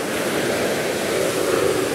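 Big ocean waves washing up into a coastal parking lot, a continuous near wash of churning surf mixed with wind buffeting the microphone, steady and moderately loud with no talking.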